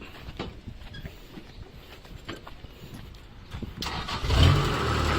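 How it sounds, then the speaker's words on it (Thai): A used 2012 Kubota DC70H combine harvester engine cranks and catches near the end, rising from a quieter mechanical background into a loud, steady diesel rumble. "สตาร์ทเครื่องได้เลยครับ"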